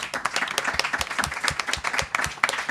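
Audience at a journalism and new media careers panel breaks into sustained applause, many hands clapping densely and steadily for a few seconds, moderately loud and close, with no speech over it.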